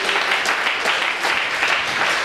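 A church congregation claps in praise during a worship service, many hands clapping together in a loud, dense, slightly rhythmic burst that continues steadily close by, with no clear speech over it.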